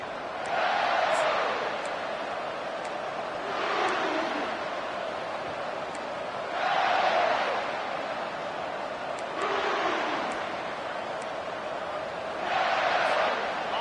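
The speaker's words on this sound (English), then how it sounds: "with this place rocking, the crowd forces a false start" A stadium crowd in a college football video game roars in broad swelling waves, rising and falling about every three seconds and staying loud and steady throughout, with no talk over it.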